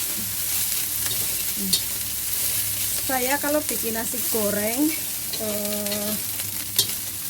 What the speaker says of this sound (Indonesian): Lalu kita aduk-aduk.